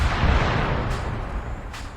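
Dense, loud rumbling barrage of artillery fire from a game, steady booming under sharp bursts and a couple of brief cracks, with no voices.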